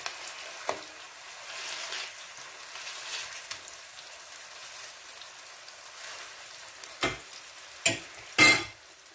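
Köfte meatballs fry in a pan with a quiet, steady sizzle, broken by a few sharp louder clatters and pan scrapes near the end.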